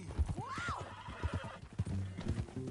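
A horse whinnies in Red Dead Redemption 2, a rising and falling neigh over nearby hoof clops that keep thudding in an uneven rhythm, with short bursts of talk around it.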